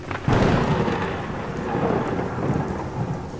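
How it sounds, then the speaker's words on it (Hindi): A heavy thunderstorm with steady pouring rain and gusting wind, a sudden rumble of thunder breaking in early and rolling on beneath the constant hiss of the downpour. "हवा और बारिश और तेज हो जाती है।"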